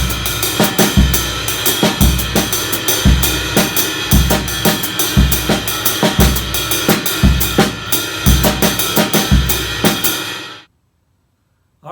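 Full drum set playing an Afro-Cuban 12/8 groove through a six-measure phrase, steady repeating kick and cymbal pattern with accented hits, loud and close, then stopping abruptly into silence.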